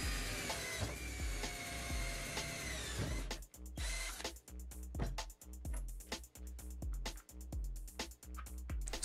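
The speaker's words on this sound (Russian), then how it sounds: "Далее сверлим сквозное отверстие." A drill bores a through hole in a plastic bottle: a sustained high whine for a few seconds, then a run of sharp, rapid clicking knocks, close and fairly loud.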